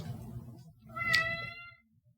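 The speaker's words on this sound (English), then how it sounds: "He and Newton, my two current cats, are having a big time playing on and around me while I'm trying to record this at my kitchen table" A playful house cat lets out a single clear, fairly close meow at a kitchen table, rising and then fading, set against quiet low room noise with no talking.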